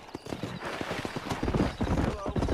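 A horse gallops in the Western video game Red Dead Redemption, with rapid, close hoofbeats in a driving rhythm. A neigh rises partway through, and a voice can be heard over the riding.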